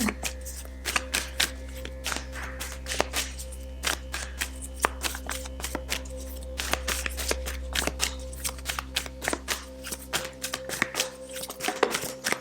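Work Your Light oracle cards shuffled by hand in a continuous run of quick riffling taps and slaps, close and steady over a low constant hum, with no voices.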